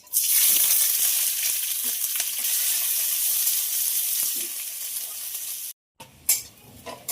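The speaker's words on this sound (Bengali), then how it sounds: "তেল গরম হয়ে গেছে, ফোড়নে দেবো 2টা তেজপাতা, দিয়ে দেবো কেটে রাখা পেঁয়াজ।" Onions hiss and crackle loudly in hot oil with two bay leaves, close and continuous, briefly cutting off near the end before quieter clattering resumes.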